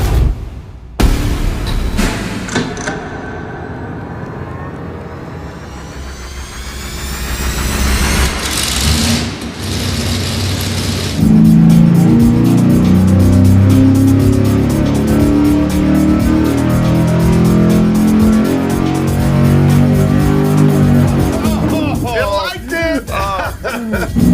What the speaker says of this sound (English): this is Dulcich's last hope for the carburetor making better peak horsepower